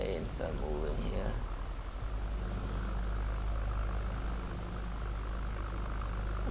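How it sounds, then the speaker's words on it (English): Propeller warplanes in the WWII strategy game Total War: 1942 produce a steady, loud engine drone with airy noise throughout, briefly joined by a voice at the start. "Planes are moving here."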